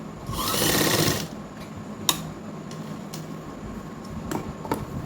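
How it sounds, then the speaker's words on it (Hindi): A domestic sewing machine stitching a side pocket onto ladies' pants runs in one loud, steady burst of about a second, then goes quiet apart from a few sharp clicks and ticks as the fabric is adjusted. "यहाँ से मशीन रखेंगे हम और इसको इस तरीके से हम एक सिलाई लगा देंगे"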